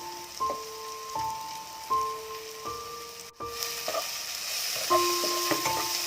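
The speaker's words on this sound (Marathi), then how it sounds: "हे हे चांगलं आपण आता परतून घेऊया." Onion-tomato masala with turmeric and chili powder sautéing in oil, a continuous close sizzle with scraping stir strokes, while a faint tonal melody plays in the background.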